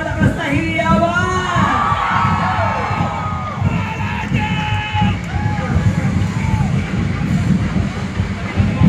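A large crowd at a civic parade in Pasig City, Philippines, cheers and shouts loudly and continuously, with high excited voices rising and falling in a dense, lively roar.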